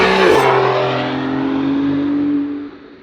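A Porsche 911 of the 992.2 generation revs up sharply, then holds a loud, sustained engine note that tapers off near the end, close and clear with no talking.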